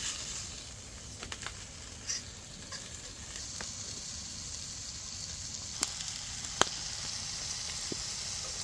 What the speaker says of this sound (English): Just gonna saute them for about 5-6 minutes